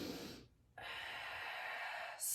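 A person takes a deep breath in during a walking and breathing exercise, a brief pause followed by a long, steady, close airy inhalation lasting well over a second, heard alone.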